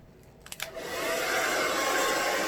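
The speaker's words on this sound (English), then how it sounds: "Then I'm going to take my dryer and I'm going to push the white." A powerful new handheld hair dryer switches on after a few light clicks and then blows with a loud, steady airy roar that holds to the end.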